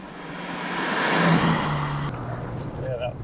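A 1988 Jaguar XJ-S with a manual gearbox driving along, its engine note swelling steadily then holding under a broad road roar, with a brief sharp knock midway and faint voices toward the end.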